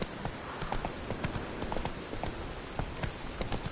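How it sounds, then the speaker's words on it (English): Roach, a horse in The Witcher 3, gallops in a fast, rhythmic clip-clop of hooves, fairly quiet and continuous against a dense background of game ambience. "Run, Roach."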